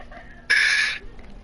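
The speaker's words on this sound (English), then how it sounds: "my cat's starting to sound like a bird" A pet cat lets out one short, bright, bird-like chirp, a brief squeaky burst alone in a quiet room.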